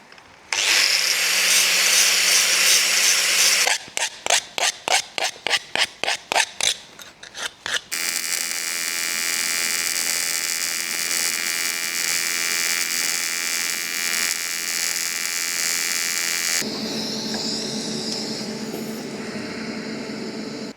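Preparing and welding an aluminium mounting tab onto a charge cooler tank. A high whining tool runs first, then a burst of rapid choppy strokes, then a long steady buzzing weld hum and another shifting tone, all loud and close.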